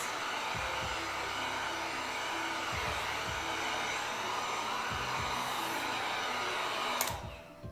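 A heat gun heat treats cosplay armor material with a steady, close airy whir and faint hum throughout, cutting off near the end.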